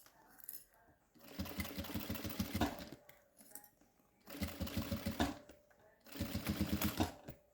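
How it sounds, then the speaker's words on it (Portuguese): A sewing machine stitching fabric for a pencil case and toiletry kit runs in three bursts of rapid, even stitching, each a couple of seconds long, separated by quiet pauses, fairly close and clear. "A máquina tá aí pra costurar."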